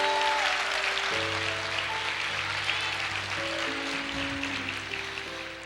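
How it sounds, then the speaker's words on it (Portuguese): Congregation in a church service claps during a sermon, a steady wash of applause over sustained organ or keyboard tones, with brief faint murmurs. "Aplauda o Senhor, diga: eu creio."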